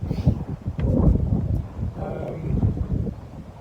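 Wind buffets and rumbles steadily across the microphone outdoors at the Devil's Beef Tub, a low blustery roar that swells and eases without stopping.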